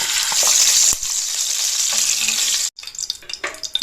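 Half a cup of pure ghee hisses and sizzles steadily in a kadhai with a bright, continuous frying crackle, broken by a brief pause and then fainter, uneven sizzling and stirring.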